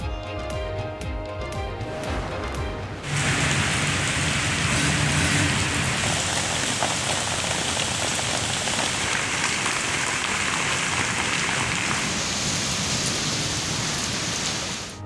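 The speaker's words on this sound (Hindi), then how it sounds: "इस्लामाबाद और रावलपिंडी मूसलाधार बरसात से पानी पानी" Heavy monsoon downpour drenching Islamabad and Rawalpindi, a loud, steady roar of rain that kicks in abruptly after a few seconds of other noise and keeps going without a break, with no talking.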